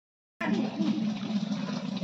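Water from a new tap pouring onto a house roof in hot weather, a sudden steady splashing rush starting after a brief silence, close and continuous.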